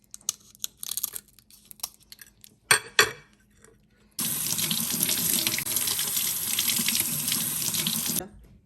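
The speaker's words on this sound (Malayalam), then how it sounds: "ഞാനത് റണ്ണിങ് വാട്ടർ വെച്ചിട്ട് കഴുകി ക്ലീൻ ചെയ്ത്" Prawns are washed under a running kitchen tap, a steady loud rush of water that starts partway through and continues for several seconds, after some quiet handling clatter and a couple of sharp knocks.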